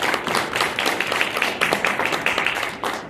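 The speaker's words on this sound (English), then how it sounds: "Round of applause for Kim." A crowd claps continuously for a few seconds, a dense patter of hand claps from a room full of people.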